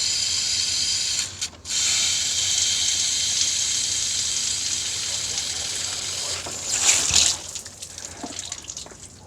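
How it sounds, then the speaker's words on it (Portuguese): Coolant water drains from the bottom of a Ford Ka radiator with a steady, close hiss and splatter, broken by a short gap early on and a louder gush near the end. "eu vou esgotar aqui embaixo o radiador para justamente fazer escoar aí essa água de dentro"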